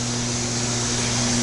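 A 1966 Otis hydraulic freight elevator's pump motor runs steadily in its machine room, a loud constant hum with a strong low tonal drone and broad mechanical hiss throughout.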